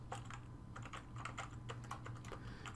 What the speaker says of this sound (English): Make sure I type in my password correctly.